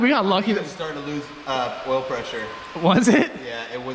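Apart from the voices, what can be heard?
No distinct noise like a dog, phone or traffic.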